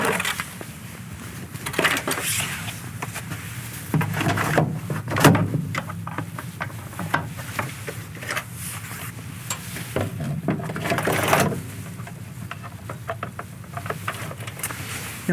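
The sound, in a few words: wheel chocks being removed from a semi-trailer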